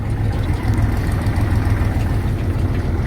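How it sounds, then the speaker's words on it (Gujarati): A tractor engine idles steadily nearby in a cotton field with a deep, continuous low rumble and no voices. "હવે ટ્રેક્ટર આપણે આગળ જવા દેવાનું છે"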